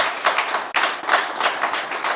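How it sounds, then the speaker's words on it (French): An audience in a hall claps in a brief burst of applause, a few seconds of scattered hand claps at moderate volume with no talking. "On peut applaudir justement sur le principe"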